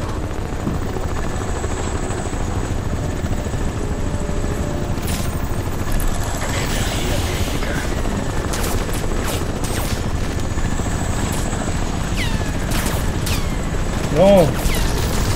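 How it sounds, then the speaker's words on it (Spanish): A constant chopping helicopter drone runs throughout amid Crysis Remastered game sound effects, with scattered sharp bursts and a brief louder blip near the end. "¡Pinches helicópteros!"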